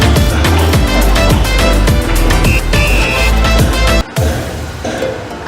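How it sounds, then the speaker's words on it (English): Construction work near a house, a loud dense mix of clanking, rumbling and mechanical noise that runs continuously and dominates everything, with a brief drop before it resumes. "There is this construction work going near my place, so I really can't help it."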